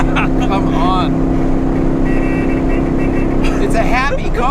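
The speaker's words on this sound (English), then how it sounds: "And the engine is so healthy. It sounds great." A 1963 Porsche 356 B engine while driving, a steady, loud, continuous drone with a low hum, heard under people talking.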